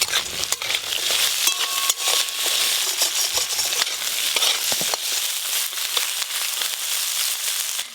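Crab frying in hot oil with five-spice, salt and turmeric, a steady close sizzle with scraping stirs and clinks of a utensil against the pan throughout.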